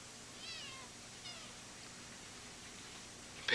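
A kitten gives a couple of soft, thin meows early on, faint and close against a quiet indoor hum, followed by a brief louder noise at the very end.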